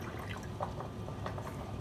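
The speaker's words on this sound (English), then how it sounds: "I'm putting 1 cup of water in here." Water poured from a measuring cup into a glass, a short steady splashing trickle lasting under two seconds, fairly soft and close, with no talking.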